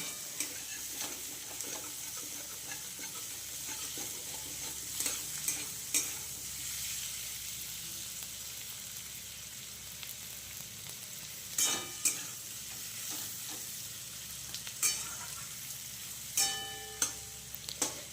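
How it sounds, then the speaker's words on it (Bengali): Onions fry gently alongside vegetables in a pan, giving a steady soft sizzle broken by scattered clacks and scrapes of stirring, with no voices. "পেঁয়াজটাকে দিয়ে এগুলোর সাথে ভালো করে একটু হালকা করে ভেজে নেবো"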